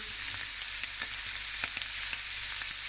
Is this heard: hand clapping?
no